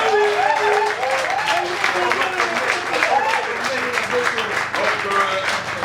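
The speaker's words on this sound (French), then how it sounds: "Sous vos applaudissements" Sustained audience applause at a political party gathering in Congo, loud and steady for several seconds, with no speech over it.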